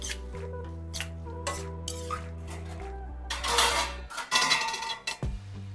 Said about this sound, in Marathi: टोमॅटो पण थोडासा छान मिक्स करून घेते